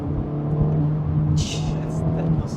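A Honda Civic Type-R or Acura Integra Type-S engine hums and revs steadily at close range, a low droning tone running throughout with a voice talking over it.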